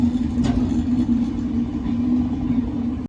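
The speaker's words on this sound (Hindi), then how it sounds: "ये जो सामने से गाड़ी आ रही है ये है वैशाली सुपर फास्ट एक्सप्रेस।" The Vaishali Superfast Express approaches along the railway line with a steady, close, low engine drone and rumble that holds at a constant pitch throughout.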